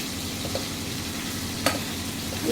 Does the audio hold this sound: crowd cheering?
no